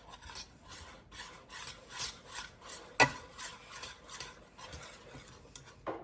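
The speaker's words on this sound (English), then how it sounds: "Now, gonna give it a good whisk." Whisking macaroni and cheese sauce in a bowl, a steady raspy scraping and stirring with repeated strokes and one sharp clink midway, fairly quiet and close with no talking.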